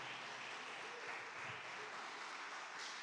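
A church congregation applauds during a Sunday service, a steady faint wash of many hands clapping continuously in a large room, distant and sustained throughout.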